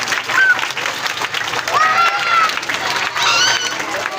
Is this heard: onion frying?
no